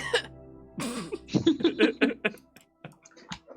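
A voice imitates a raspy, sputtering cough in a few choppy bursts, followed by a couple of short faint throat sounds.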